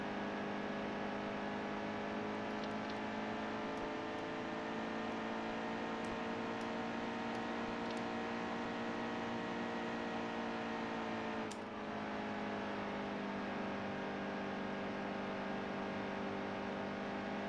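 NASCAR trucks racing in NASCAR Heat 2 produce a steady, dense engine drone at sustained high revs with faint tire and contact clicks, holding a constant level throughout with one brief dip.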